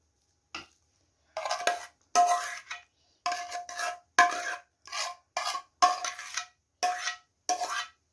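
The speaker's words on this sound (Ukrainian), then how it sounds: "Вони такі миски, що дуже відчутно, які шкрябають по них." A utensil scrapes against a bowl in short, separate rasping strokes, about a dozen, close and fairly loud with brief pauses between.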